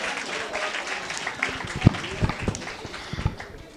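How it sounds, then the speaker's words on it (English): A gala dinner crowd at an awards ceremony gives a round of applause, a dense wash of clapping with a few sharper claps standing out, mixed with some speech. "give a round of applause to all the branches who were"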